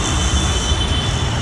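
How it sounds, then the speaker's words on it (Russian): A metro train rumbles past on a busy Mumbai street, a steady loud roar of wheels and rail noise with a faint high squeal running through it. "Вот метро."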